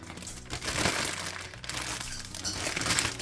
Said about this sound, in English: And let me go ahead and zip this up.